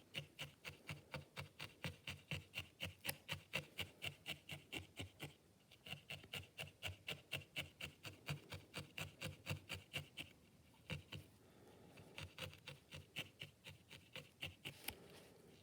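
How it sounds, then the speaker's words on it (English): Wool being needle felted into a Christmas hat shape: a close, steady run of rapid light stabbing pokes, about four per second, with brief pauses partway through and no talking. "And then as we're felting it in, we're pulling it up, making the hat shape"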